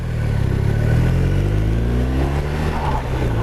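BMW R1250RS boxer motorcycle engine droning steadily while riding, loud and close, with engine pitch slowly climbing and harmonics rising under the throttle.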